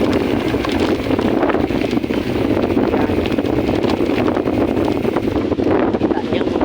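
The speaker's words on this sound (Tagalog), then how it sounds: "lakas ng hangin" Strong wind on a bike trail roars and buffets the microphone continuously, a dense rumbling gust with no pauses throughout.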